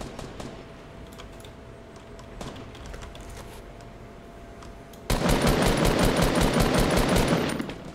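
Rapid gunfire from a player in the game Fortnite bursts in loud and dense after a quieter stretch of faint clicks and background noise, continuing as a sustained volley for about three seconds before tapering off.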